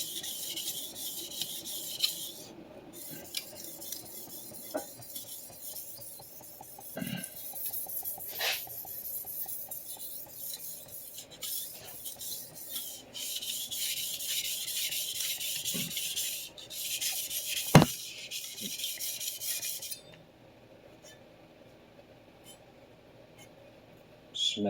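A long vintage Clyde Cutlery chef knife is sharpened on a stone with steady rhythmic scraping strokes, close and continuous, broken by a few sharp knocks before the rasping stops near the end.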